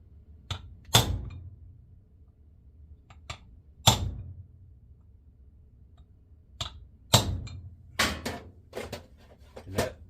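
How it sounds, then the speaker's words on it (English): Sharp metallic taps of a hammer on a center punch, tightening a connection on a reel, struck in irregular bursts with pauses between, close by and fairly crisp. "Take my hammer, and I'm going to go in here and I'm going to punch it"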